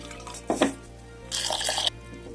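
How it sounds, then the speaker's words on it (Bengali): Urad dal lentils rinsed by hand in water in a kitchen, giving two short bursts of splashing and swishing liquid, a brief one and then a longer one, close by with no talk. "এবার বিউলির ডালটাকে আমি ভালো করে ধুয়ে নেব"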